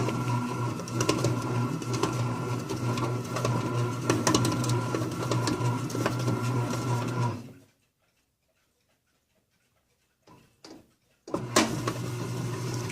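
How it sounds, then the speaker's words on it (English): A Hitachi HB-B301 bread maker kneads dough with a steady mechanical whir and rhythmic ticking, then stops, leaving near silence broken by a couple of short sounds before the motor resumes. "The bread maker is pre-kneading the dough."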